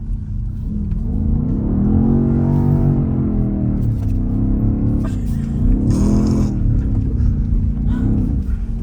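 A BMW XM's engine revs hard while the car drifts sideways, a loud continuous roar rising and falling in pitch with throttle swells, close and steady throughout.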